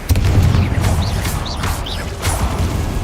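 Spell blasts and booming explosions from the video game Hogwarts Legacy, including the Confringo fire spell, burst loudly over a dense, continuous roar of combat effects, with rising whooshes between hits.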